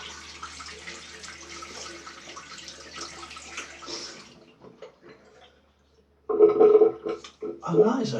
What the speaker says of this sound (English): Now I'm just going to rinse off and then we will aftershave.